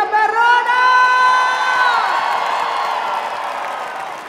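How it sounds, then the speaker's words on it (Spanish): A festival crowd at a Sonora Dinamita cumbia concert cheers and whoops loudly, a sustained roar of voices that slowly fades. "vamos a brindar un aplauso bien grande a los organizadores de esa gran fiesta"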